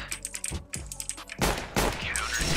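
Rapid bursts of gunfire from a shooter video game, likely Counter-Strike with a NAVI player, crackle in quick sharp clusters, growing denser and louder toward the end, with no talk over them.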